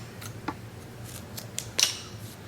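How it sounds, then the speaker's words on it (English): Scissors cutting crochet yarn make a few quiet, crisp snips spread over a couple of seconds, the sharpest one near the end, against a soft room hum. "So now chain 1 and I'll cut this yarn."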